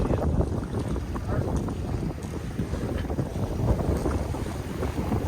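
Wind gusting across a sailboat underway at about six knots, a constant close rumbling buffet with the roar of wind on the microphone and faint water noise beneath, and no voices.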